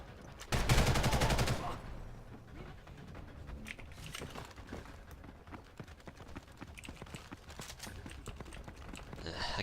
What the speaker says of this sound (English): that machine gun kills you with 2 bullets